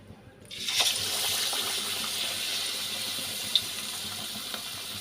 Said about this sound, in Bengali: দেখো বন্ধুরা, তেলটা গরম হয়ে গেছে, এবার আমি একটা উইংস ওতে তুলে দেবো।